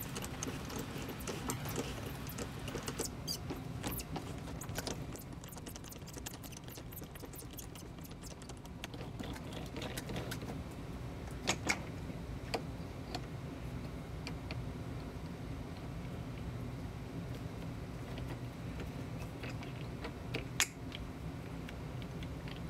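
A metal lathe cuts threads on a lag bolt with a tailstock die holder, making a steady mechanical whir and hum with a dense, continuous ticking texture and occasional sharper clicks throughout.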